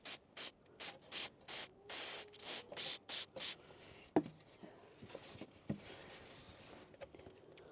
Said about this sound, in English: Just spray a little bit more in there.